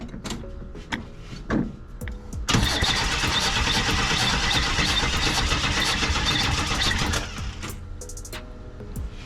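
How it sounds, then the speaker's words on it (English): Starter on a 1979 Chevy Nova with a suspected bad carburetor whirs a few short times, then the engine catches and runs loudly for several seconds before dropping off, close by with no talking. "Go and crank it, Gogo."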